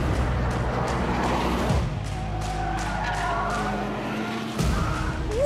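A Lotus Elise Sport 240 Final Edition or Caterham Seven 485 R lightweight sports car accelerates hard on a track lap, its engine droning loud and steady from inside the car before a gear change and a renewed surge.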